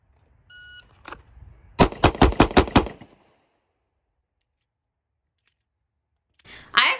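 Handgun shots fire at a shooting class: a single early report, then a fast string of about six loud, close shots within roughly a second, followed by quiet.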